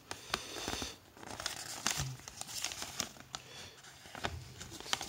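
A printed paper leaflet from an Eveline 8 in 1 eyelash serum box is handled close by, giving irregular crinkling and rustling with sharp crackles throughout.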